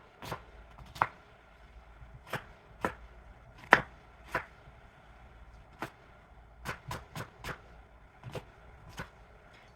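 A knife chops a whole onion on a board, giving about a dozen crisp, separate strokes at an irregular pace, some in quick clusters, close and clear with no talking.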